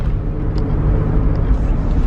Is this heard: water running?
no